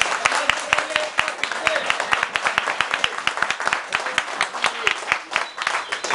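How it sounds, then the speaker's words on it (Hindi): Students in a fault-finding repair class clap loudly in a sharp, uneven burst of individual claps, close and prominent, with some talking mixed in. "जोरदार ताली बजाइए, क्लैप बजाइए।"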